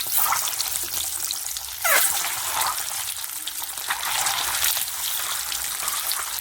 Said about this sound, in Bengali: তেল গরম হয়ে গেছে, ডিম দিয়ে দিচ্ছি।